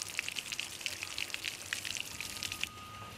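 Water is sprayed onto the panoramic windows of an Airstream Argosy trailer during a leak test. It makes a steady, close hiss with scattered droplet patter hitting the metal and glass throughout.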